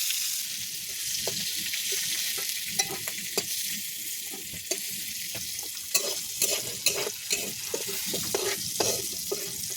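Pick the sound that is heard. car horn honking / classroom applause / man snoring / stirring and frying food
stirring and frying food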